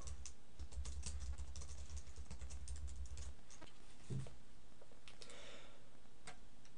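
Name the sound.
typing on a computer keyboard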